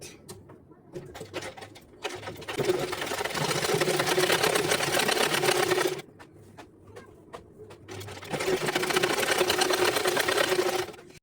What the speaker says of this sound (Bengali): এখন শুধু দুইটা চাপ সেলাই করে দেব